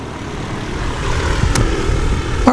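A Rotax-powered Zenith light airplane coming in low to land at a STOL event in Jennings, Louisiana, its propeller drone steady and fairly loud, with a sharp brief click partway through.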